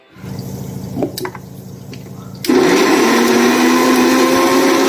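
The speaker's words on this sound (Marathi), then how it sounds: "आता मी यांना याच्यामध्ये टमाटर पण ॲड करून घेते आणि मिक्सरमधून याला पण बारीक करून घेते" A kitchen mixer grinder whirs into a loud, steady grind of fried onion and tomato, starting after a lower motor hum with a few clinks, close and continuous.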